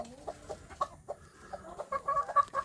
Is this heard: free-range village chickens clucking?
yes